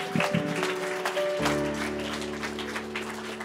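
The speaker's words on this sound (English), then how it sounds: "Good clap offering the Lord if you would." A church congregation claps as an offering to the Lord during a Sunday service, a dense spatter of applause that carries on over steady sustained keyboard or organ tones.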